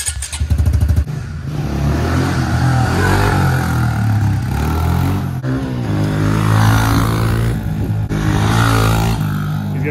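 A Honda CRF110 dirt bike fitted with a water-jet-cut sprocket revs loud and close as it is ridden, its engine note rising and falling steadily for about ten seconds, with no talking.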